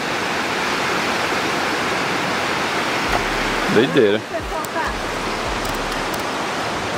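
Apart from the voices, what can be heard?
waves of water at the border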